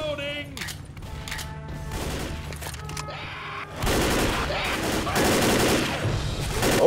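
Gunfire in Left 4 Dead, bursts of rapid shots and heavier blasts, loud and close, building into dense continuous firing in the second half, with voices talking over it.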